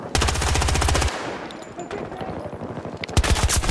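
Rapid automatic gunfire from a Battlefield video game match, a loud steady burst of machine-gun shots that breaks off, followed by scattered crackling shots and a fresh sharp volley at the end.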